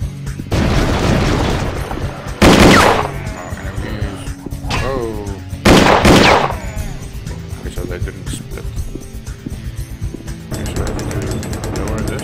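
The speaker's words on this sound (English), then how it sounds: "These are shotguns." Two loud, heavy shotgun blasts from the Will Rock video game, spaced a few seconds apart, ring out over a steady bed of game sounds and someone talking.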